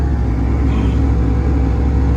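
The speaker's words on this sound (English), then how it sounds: "You turn it to 4, and it sounds like someone started up a second engine in the car." Deep steady rumble and low drone from the air-conditioning fan of a Ferrari F355 GTS turned up to setting 4, loud and constant like a second engine running inside the cabin, with no talk over it.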